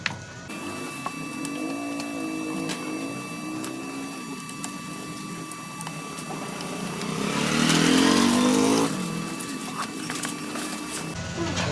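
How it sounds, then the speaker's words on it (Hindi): A washing machine motor with newly changed bearings runs with a steady, even electric hum that swells louder for a few seconds before settling back. "दोस्तों ये देखें, हमारी मोटर बिल्कुल रवां हो चुकी है।"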